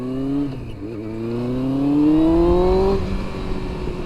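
Yamaha R1 sport motorcycle engine revving nearby, pitch climbing smoothly and dropping back as the throttle is blipped, loud and steady with no talk.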